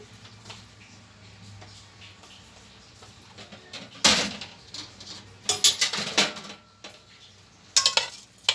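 Uncooked rice being tipped into a metal pot and rinsed and strained for Egyptian stuffed vegetables, with a quiet start and then several bursts of clattering, rattling grains and pan noise near the mic.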